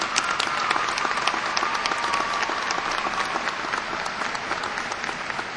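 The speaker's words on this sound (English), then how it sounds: "Let's give them both a round of applause." A graduation ceremony audience applauds, many people clapping in a dense, even roar that holds steady for several seconds with no talking over it.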